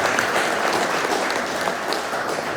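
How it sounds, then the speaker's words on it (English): Audience applause at a gathering, a dense steady wash of many hands clapping at moderate volume, continuing evenly without any speech over it. "give you a rousing applause"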